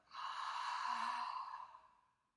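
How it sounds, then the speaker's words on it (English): A single long, deep exhale during a kids' yoga breathing exercise, a soft airy sigh that swells, holds for about a second and fades out gently, close and quiet with no other sound. "I love taking big deep breaths"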